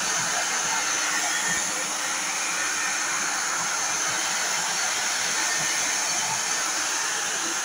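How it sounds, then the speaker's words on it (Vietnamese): Hair dryer blowing on the fan of a Foxconn G31MV motherboard during repair, a steady loud close hissing roar that runs unbroken throughout with no talk. "Mình sẽ lấy máy sấy tóc để sấy nhá."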